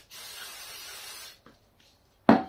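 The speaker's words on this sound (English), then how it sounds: "The only thing I do from here is put a spray down like that." Cleaner sprayed onto a KTM-style TNT 125 motorcycle's rear brake parts: one long, close hissing burst of about a second, then near silence with a faint click, and a sharp clatter at the end.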